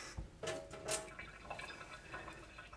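Water added to a homemade aluminum can tab battery, a brief faint trickle and a few small drips and splashes close by, quiet overall.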